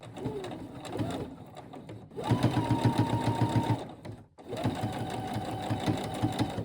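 A sewing machine runs a straight stitch along narrow binding on a baby onesie hem, in two close bursts of rapid rhythmic chatter separated by a brief pause, with a short quieter run before them.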